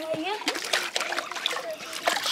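A child splashes and pours water in a paddling pool, with close, bright splatters and sloshes, while a voice is heard over the water.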